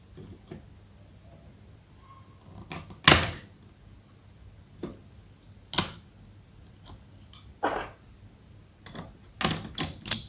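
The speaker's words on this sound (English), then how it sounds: "Now we have to reapply the heat sink." Laptop CPU heat sink being set back in place and its screws tightened, giving sparse sharp clicks and small metallic taps spread irregularly over a quiet background, close by and with no voices.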